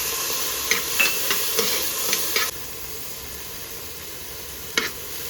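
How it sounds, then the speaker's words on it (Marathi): Sprouted matki, moong, carrots, tomato and turmeric sautéing in ghee give a steady low sizzle, with a few sharp spoon taps and scrapes against the pan spaced through the stretch, no voices. "हे सगळं छान परतून घ्यायचं"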